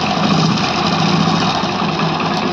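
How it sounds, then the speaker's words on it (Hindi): A Hero HF Deluxe motorcycle engine idles steadily and close, with a faint timing chain rattle woven into the even, continuous drone, alone with no talk. "तो दोस्तों देख पा रहे हैं इसके इंजन की आवाज़ जो मैं आपको सुना रहा हूँ"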